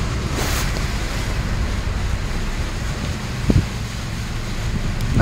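Vehicle driving along a flooded road, water hissing and rushing steadily under the tires with a low engine rumble and a couple of brief splashes or knocks.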